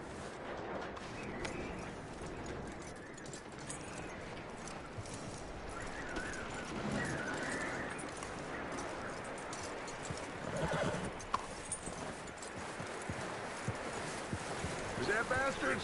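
A horse in the video game Red Dead Redemption 2 clip-clops along at a walk and lets out whinnies, with game ambience and voices talking over the hoofbeats.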